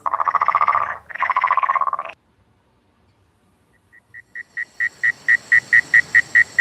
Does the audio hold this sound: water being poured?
no